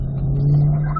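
A car's engine hums steadily at low, even pitch while accelerating on an autocross course, close and moderately loud, with a slight rise in tone and no talking over the brief moment.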